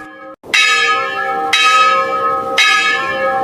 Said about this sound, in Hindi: एक अजीब सी घंटी की आवाज गूंज रही थी।